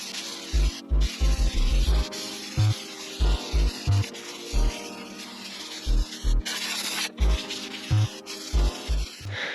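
Hand block sanding over primer on the body of a Nissan S15 Silvia, rhythmic rasping strokes in quick back-and-forth bursts, close and distinct, repeating unevenly for several seconds with no talking.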